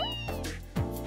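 A kitten in The Legend of Heroes: Trails in the Sky SC game gives a short meow over steady game background music, close and clear, with a second brief mew near the end.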